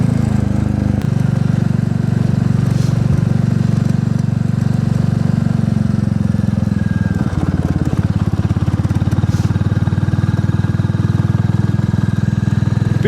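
A classic Royal Enfield motorcycle is ridden, its engine thumping loudly and continuously close up throughout, with a brief dip and change of note partway through as it keeps running.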